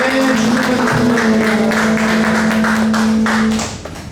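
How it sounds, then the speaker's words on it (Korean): A church congregation claps together during a Sunday worship service, a dense burst of applause over a sustained sung or organ note that fades out at the end. "영광의 박수 올려드립시다."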